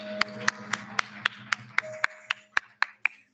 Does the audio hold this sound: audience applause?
yes